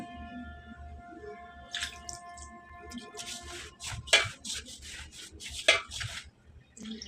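Water poured into rice flour mixed with salt for bhapa pitha batter, followed by wet rubbing and mixing by hand, with a few sharper clinks and pats close up, no speech.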